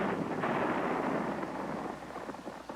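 Artillery guns firing at a summer training camp: a broad, rumbling roar with a long, sustained boom that slowly fades, heard at a distance and steady in loudness.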